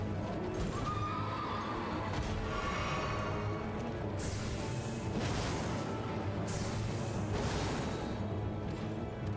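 A horse in the video game Elden Ring whinnies repeatedly amid hoof clip-clops and loud crashing combat bursts, with a dense, noisy game soundtrack throughout.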